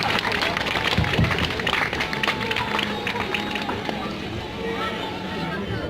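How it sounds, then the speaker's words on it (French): Crowd clapping for a model at a Lolita fashion show at the Arras Matsuri festival, a busy, continuous patter of hands mixed with audience chatter and murmuring throughout. "On peut l'applaudir aussi."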